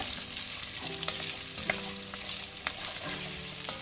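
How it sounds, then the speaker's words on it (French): Whole peeled garlic cloves, onions and carrots sauté in a pan for bœuf bourguignon, giving a steady soft sizzle with light scraping and stirring knocks, close and fairly quiet. "Et je vais les faire revenir comme ça 2-3 minutes"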